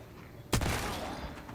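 A single pistol shot in the Once Human video game, a sharp sudden crack followed by a short decaying echo and low ambient hum.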